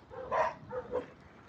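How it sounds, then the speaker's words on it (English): A loose dog barks outdoors, giving about three short, moderately loud barks at mid distance, with no one talking. "Ah, here's a dog, and it's loose"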